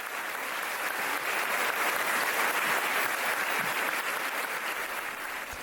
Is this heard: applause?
yes